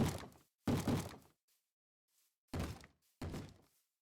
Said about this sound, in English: Here's some zombies banging on some doors.